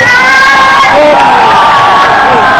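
A crowd cheers and shouts at the final of a creative Song Jiang Zhen troupe competition at Nanhai Zizhu Temple in Neimen, Kaohsiung, a loud, dense roar of voices with whoops running throughout.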